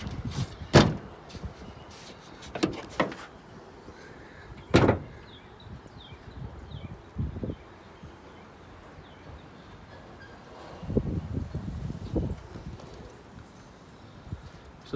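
Clunks and latch pops from a 1990 Chevy Suburban with an inside hood release, a few sharp knocks and thuds scattered through otherwise quiet surroundings, close by with no talking.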